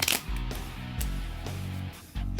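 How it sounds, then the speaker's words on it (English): A deck of playing cards is riffled together in a magic trick, with soft papery flutters and a few sharp snaps, close and fairly quiet. "Shuffle them together."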